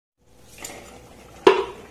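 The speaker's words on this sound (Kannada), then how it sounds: "ಇದಕ್ಕೆ ಇವಾಗ ನಾನು ಅಣಬೆನ ಹಾಕ್ತಾ ಇದ್ದೀನಿ." Mushrooms go into a pan of fried onion and tomato, with a quiet low sizzle building before a sharp metallic clatter of utensil against the pan near the end.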